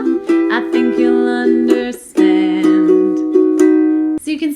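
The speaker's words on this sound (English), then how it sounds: "For this song, like I said, it's the down, down, up, down. So it sounds like this." An acoustic guitar strums chords in a mellow down, down, up, down pattern for a song, the evenly spaced strokes ringing out clearly and close, with brief pauses between chord changes.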